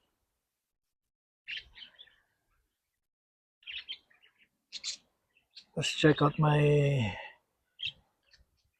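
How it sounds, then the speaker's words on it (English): Pet cockatiel and yellow budgies in a backyard cage chirping in scattered short calls, with one louder burst of squawking chatter, while a person speaks briefly nearby. "the cockatiel, and now I have additional budgies in there, yellow budgies."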